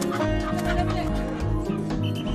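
Racing chickens cluck and squawk close by over a dense, humming background, with no clear talking.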